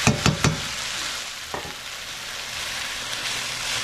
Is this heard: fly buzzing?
no